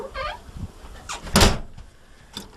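A door is shut during a December 2010 blizzard in New Jersey, giving one loud, sharp thump midway through, with fainter rustling and knocks before and after.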